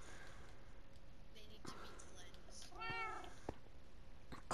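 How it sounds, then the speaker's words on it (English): Cats meowing in Minecraft, one brief clear meow in the middle with faint clicks around it, heard under a person's speech. "These dummy, thick-head cats need to be"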